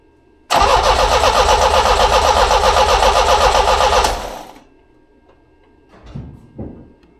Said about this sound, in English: we got a starter motor trying to crank